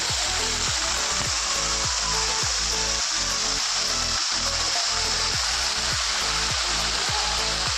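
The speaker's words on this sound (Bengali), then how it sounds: "এখান দিয়ে জল বেরিয়ে যাচ্ছে।" Water pours out at Moti Jharna waterfall in a loud, unbroken rushing roar, with a regular pattern of low thuds beneath it.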